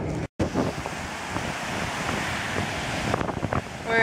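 Surf rolls in steadily at Bellows Beach Park on Oahu, Hawaii, with constant wind buffeting the microphone and a brief dropout near the start.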